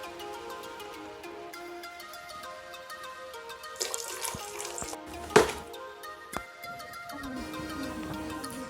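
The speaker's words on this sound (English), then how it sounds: "Fabuloso and some wax into my bucket and mix it all up real good with the water and put my mop in it" Water sloshes and splashes in a bucket as Fabuloso cleaner and wax are mixed into mop water, with soft irregular swishing, a few sharper splashes midway and a faint drip, close by and fairly quiet.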